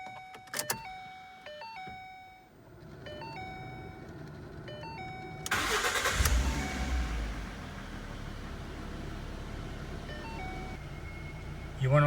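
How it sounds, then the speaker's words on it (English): A 2012 Ford Mustang engine cranks over and catches at mid-clip, then settles into a steady low idle, close by. Beeping chimes and tones come before the start and keep going faintly over the running engine. "Now we're going to start the car, let the oil circulate in the engine"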